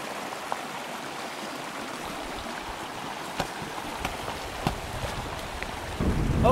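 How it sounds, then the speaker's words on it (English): Cache Creek water rushes continuously in a steady, broadband wash, close by, with a few small splashes and knocks near the end. "we've made it to the creek, and you can hear it running behind me"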